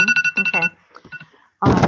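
A phone alarm beeps in a quick, loud repeating pattern of tones, fades into a softer stretch of scattered beeps, then gives way to a burst of noise at the end, with a few brief words spoken.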